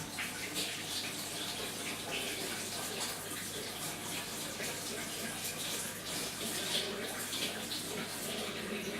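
A paintbrush carrying yellow acrylic paint is rinsed under a running tap, giving a steady, close gush of water that holds even and unbroken throughout.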